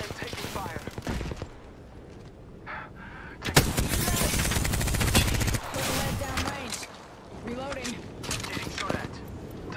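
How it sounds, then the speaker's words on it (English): Bursts of rapid automatic gunfire and sharp shots in an Apex Legends match, loud and dense in clusters, mixed with a player talking over the action. "I am taking fire"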